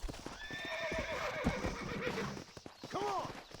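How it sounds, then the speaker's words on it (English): A horse in the video game Red Dead Redemption snorts and whinnies while its hooves clop irregularly nearby, with someone speaking over the sounds and a brief neigh near the end. "Take the horse to the stable."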